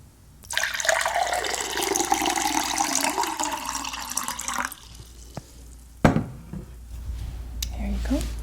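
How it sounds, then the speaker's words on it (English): A glass of lemon water is poured indoors, a steady close liquid stream running for several seconds, then a few clinks and soft handling sounds with faint background noise. "I want to give you a glass of lemon water before we continue."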